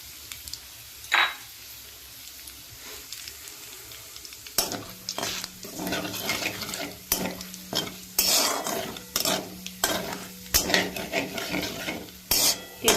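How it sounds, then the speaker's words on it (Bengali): Whole spices such as cinnamon, cardamom and bay leaf frying in hot oil: quiet at first, then a busy close sizzle with repeated sharp scrapes and clinks of a utensil against the pot. "যখন গরম মশলাটা আমরা ভেজে নিই তেলের সঙ্গে খুব সুন্দর সেন্ট বেড়ায়"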